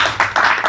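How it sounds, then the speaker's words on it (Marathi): A small crowd claps by hand at a Pandharpur Wari pilgrimage gathering, a short, steady patter of close applause lasting under a second, loud and without any talking over it. "सगळ्यांनी टाळ्या वाजवा रे."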